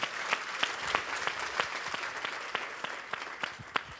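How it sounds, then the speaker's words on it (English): Steady applause from a crowd, a dense patter of claps with a few sharp nearby claps standing out. "How about another round of applause for Tommy?"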